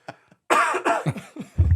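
Someone coughs a few times in short, rough bursts, close and fairly loud, with a little throat clearing in the mix.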